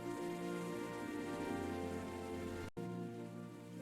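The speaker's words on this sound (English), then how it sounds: "Rain at night makes Seoul even more beautiful." Soft, steady rain falls at night in Seoul, a faint, even wash of patter that cuts out for a split second near the end and then continues.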